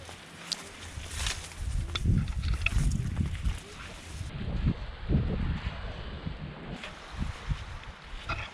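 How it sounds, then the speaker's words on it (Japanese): Sea waves washing onto a beach in surges, with low rushing swells rising and falling every second or two amid wind buffeting the microphone and some faint shuffling nearby. "海の音聞こえたよ。"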